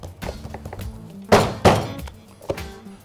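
Neapolitan pizza dough is slapped by hand, with two close, heavy smacks in quick succession followed by a lighter third one, over quiet surroundings.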